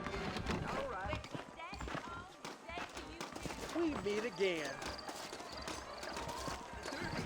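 Horses in the Red Dead Redemption video game clip-clop along at a walk under spoken dialogue, with a brief snort or whinny partway through.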